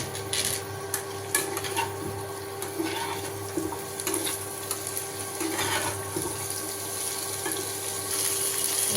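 Drained vegetables fry in a pan with whole cumin seeds, giving a steady, moderate sizzle and crackle with scattered pops throughout, no voices.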